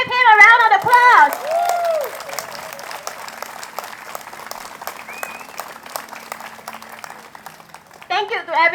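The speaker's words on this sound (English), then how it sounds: "Can we give him a round of applause?" A crowd applauds at an outdoor rally in Hong Lim Park, steady clapping mixed with a few cheers that run under a speaker's voice at the start and fade, then swell again briefly at the end.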